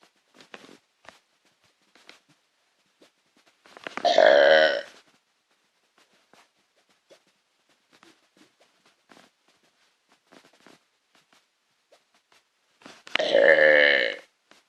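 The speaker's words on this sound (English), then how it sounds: "We're just gonna do 10 burps for the weekly burp video" Two long, loud, deep burps, each lasting about a second and well separated, with quiet small clicks and mouth noises in between.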